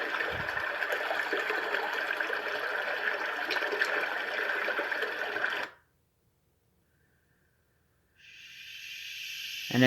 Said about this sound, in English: Creek